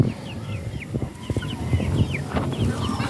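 Heritage chickens cluck and chatter close by in short, irregular bursts, with a few higher calls and a steady faint background hiss.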